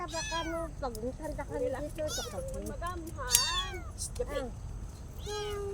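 Repeated high, thin meows from a brown tabby kitten, several in quick succession with short pauses, close by, while people talk softly in the background.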